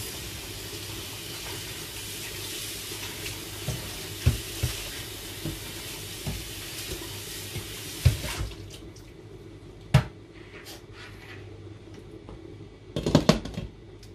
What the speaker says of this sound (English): then I go add more water to the ribs